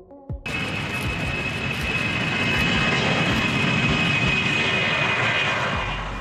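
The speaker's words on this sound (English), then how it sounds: "This is the Tupolev Tu-204-214, first flown in 1989 in the Soviet Union, Russia." Tupolev Tu-204/214 airliner engines roar up suddenly after a brief quiet start, then hold a loud, steady jet rumble with a high whine for several seconds as the twin-engine Russian jet runs up or passes close by.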